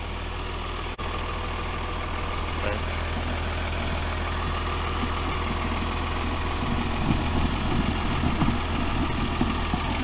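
A Freightliner FL70 truck engine idles with a steady low diesel rumble and a faint rattle, running continuously with a brief knock near the start.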